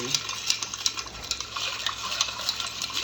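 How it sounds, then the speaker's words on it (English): An old fashioned cocktail being stirred with ice, giving a steady run of light clinking and rattling taps at close range, with no talking. "Yeah, you want to really stir it pretty good here"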